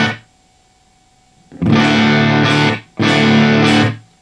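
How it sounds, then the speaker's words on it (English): A Vivian Campbell Les Paul electric guitar played dry through a high-output humbucker rings out in two loud, sustained, distorted chords, each cut off sharply, after the tail of an earlier note and a brief silence. "playing my Vivian Campbell Les Paul, using this high output humbucker as a bit of a boost"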